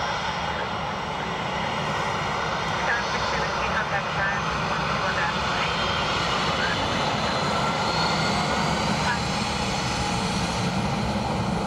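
A Ryanair airliner lands on runway 28 left at Dublin Airport, its engines making a loud, continuous roar that fills the scene steadily from start to finish, with radio chatter audible underneath.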